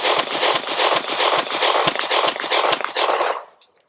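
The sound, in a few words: Sig P365XL pistol gunshots, Blazer, Independence, PPU ammo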